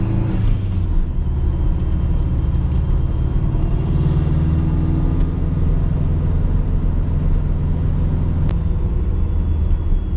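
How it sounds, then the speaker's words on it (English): A Subaru Impreza's turbocharged engine drones loud and close, a steady low rumble with a faint rising whir as the turbo spools, with no voices. "Hear the turbo spool up, and sounds great."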